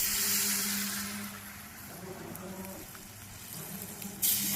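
Fritters (bora) frying in hot oil give off a steady, close sizzle and hiss that holds for several seconds, with a brief louder crackle near the end.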